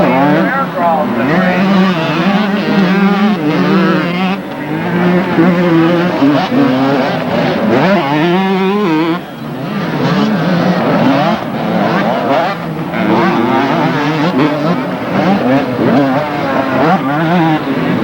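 Motocross motorcycles race around a dirt track in 1995, giving a steady, loud, buzzing engine drone that rises and falls throughout. Someone talks over a loudspeaker the whole time.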